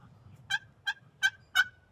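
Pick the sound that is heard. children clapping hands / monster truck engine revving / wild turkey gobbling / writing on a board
wild turkey gobbling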